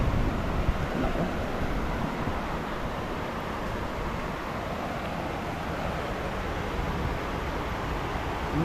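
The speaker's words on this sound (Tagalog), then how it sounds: "Lakas pa ng hangin." Strong wind rushes through trees during a rainstorm, a broad continuous roar steady and fairly loud from start to finish, with no voices heard.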